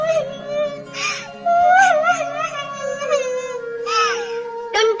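A high, squeaky cartoonish voice of a cartoon bird wails and sobs in drawn-out bursts, a childlike crying sound with wavering pitch, up close against a faint background hum.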